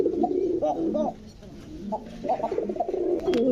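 Koka pigeon cooing at a pigeon market, several soft, low, throaty coos in a repeating rhythm, close by, with background chatter and a faint high chirp near the end.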